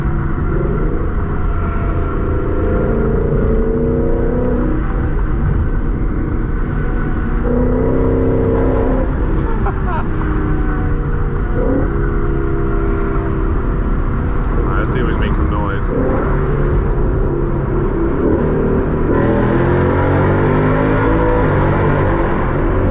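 A loud 2020 Ford Mustang GT with a Borla exhaust revs and drones in a tunnel, echoing, with pitch rising and falling through gear changes and occasional pops.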